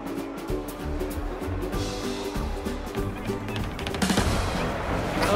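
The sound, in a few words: pyrotechnics going off in the video game A Hat in Time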